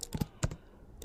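Typing on a computer keyboard, a few quick key taps with a short burst near the start and another shortly after, quiet and close in a still room.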